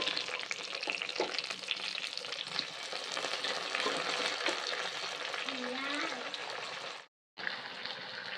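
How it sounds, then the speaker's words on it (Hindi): Nadru (lotus stem) frying lightly in oil in a frying pan on a Kashmiri village stove, a steady close sizzle and crackle running nearly unbroken, with one brief gap near the end. "अभी हम नदरू फ्राई कर लेंगे हल्का सा।"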